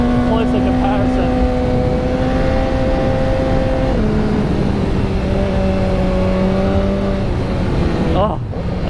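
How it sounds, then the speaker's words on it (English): A BMW S1000R motorcycle engine drones steadily and loud, its pitch stepping down partway through as a clutchless downshift is tried, then a brief stumble near the end; wind roar sits underneath. "Oh, I just went for a clutchless downshift."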